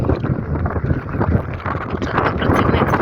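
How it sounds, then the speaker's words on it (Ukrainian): Heavy wind buffets the microphone with a continuous low rumble, gusting and loud throughout, with no voices. "такий вітер, друзі, я не знаю, чи ви щось чуєте"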